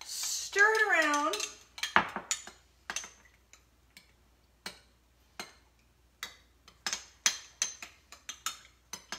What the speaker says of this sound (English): We are going to make some frosting and we are going to stir it around.